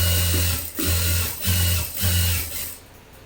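A sewing machine runs in several steady bursts, stitching the lining of a blouse. The loud mechanical hum and needle rhythm stop briefly between runs, then fade out at the end, with no talking.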